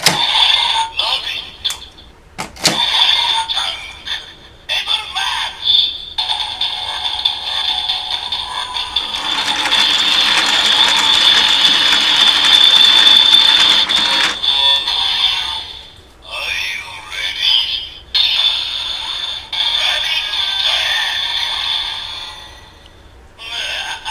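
A Kamen Rider Build DX Evol Driver toy belt playing its Rabbit Tank best match sequence: bright electronic voice calls and music from a small speaker, rising into a sustained loud jingle in the middle, with clicks and starts around it.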